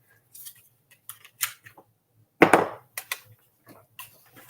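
Scissors snip through paper while a stamped Nellie critter image is cut out, giving a run of crisp, close-up cuts and clicks in irregular bursts with one louder rustling snap midway.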